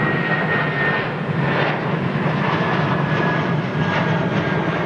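Amiri Flight Airbus A340-600 royal jet at London Heathrow Airport, a steady loud broadband engine roar that holds level throughout without a break, heard alone.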